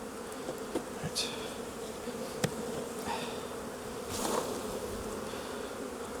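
Honeybees hum in a steady low drone while being shaken into a hive, with a few sharper knocks and brief louder buzzing bursts close by.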